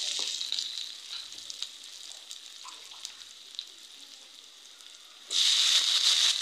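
Mola fish with spices and cumin stir-fried in a hot pan: a steady sizzle with scattered spatter and scraping, suddenly swelling into a loud, bright hiss near the end.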